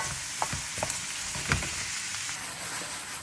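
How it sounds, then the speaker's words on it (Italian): Sliced zucchini and softened onion frying in a pan over a high flame: a steady close sizzle with a few sharp stirring clicks and scrapes near the start, no voices. "Appassita la cipolla, mettiamo le zucchine. E facciamo rosolare sempre a fiamma vivace per altri 5-6 minuti."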